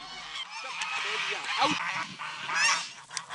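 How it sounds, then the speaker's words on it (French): Several geese honk repeatedly nearby in a noisy, overlapping chorus of nasal calls. "À commencer par les oies, en pleine répétition ce matin"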